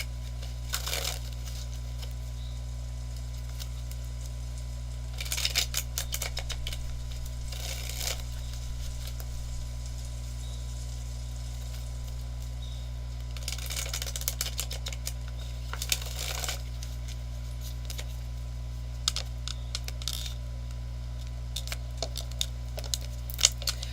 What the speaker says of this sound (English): I will shuffle 3 times, cut, and then lay out your cards.